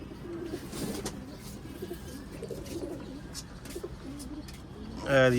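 Pigeons on a rooftop loft in Islamabad give soft, repeated throaty coos against a low, steady outdoor background, with a faint brief chirp and a sudden louder fluttering burst at the very end.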